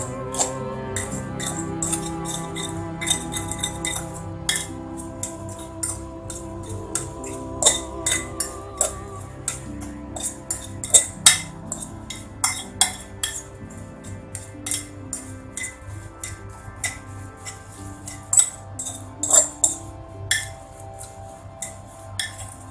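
Ground khubus bread gets mixed with pickle in a bowl, with intermittent close clinks and scraping taps of a utensil against the dish, sometimes louder, sometimes sparse, and no speech.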